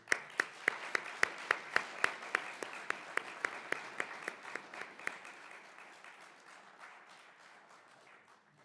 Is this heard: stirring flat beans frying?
no